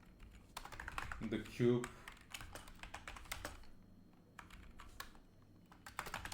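Fingers type a string value on a computer keyboard in quick, close clicking bursts. Someone talks over the typing the whole time.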